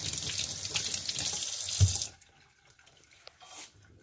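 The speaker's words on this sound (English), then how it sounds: "Rinse my hand off real quick." Hands are rinsed under a running sink tap while rabbits are being processed, with a close, steady splashing rush for about two seconds before the water cuts off, leaving faint drips.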